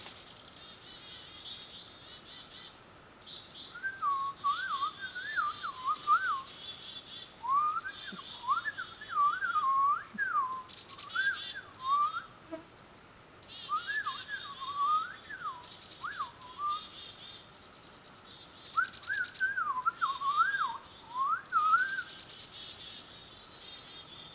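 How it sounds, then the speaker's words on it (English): Birds chirp and call repeatedly, shrill warbling phrases in bursts with brief squabbling chatter, fairly close and steady throughout with no talking. "all the birds are chirping"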